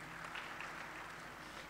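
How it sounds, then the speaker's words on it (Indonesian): Steady applause from a church congregation during a sermon, a faint, even wash of clapping heard at a distance. "Berikan tepuk tangan buat Tuhan kita."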